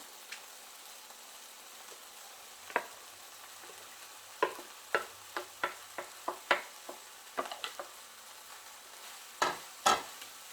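Chopped cauliflower rice stirred in a pan, with a spatula scraping and knocking in roughly a dozen distinct strokes over a quiet, faint background of low sizzling, close and without talk.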